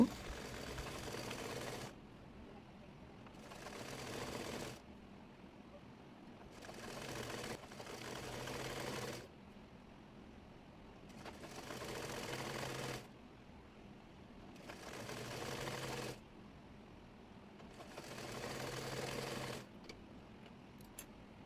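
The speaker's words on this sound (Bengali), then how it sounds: "কাপড়টির নিচের অংশ মুড়িয়ে সেলাই করে নেব" A sewing machine stitches the folded bottom hem of hijab fabric in repeated bursts of steady whirring, each a second or two long, separated by short pauses, at moderate loudness.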